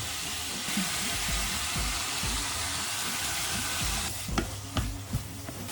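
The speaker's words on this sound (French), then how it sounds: "On va rajouter un peu de crème liquide" Beef browned with cumin sizzles and crackles steadily in a hot pan as liquid cream is poured in, the frying hiss continuous and close with a few sharper pops toward the end.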